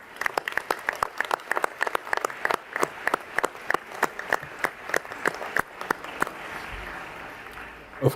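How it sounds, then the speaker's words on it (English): A conference audience at the World Conference on Culture and Arts Education gives applause, sparse distinct claps at first building into a fuller ripple that thins toward the end, heard from within a large hall. "Please give them a round of warmest applause to thank them."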